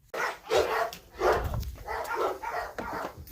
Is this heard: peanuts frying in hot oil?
no